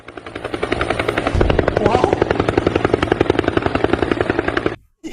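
A helicopter thunders close overhead, its rotor blades chopping in a fast, steady rhythm, loud throughout before abruptly cutting out near the end.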